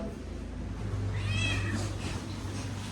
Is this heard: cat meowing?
yes